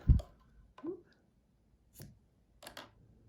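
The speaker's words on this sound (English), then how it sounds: "give it a snip" Scissors snip the loose end of crochet yarn on a granny square, giving a few small, close, separate clicks with quiet pauses between them.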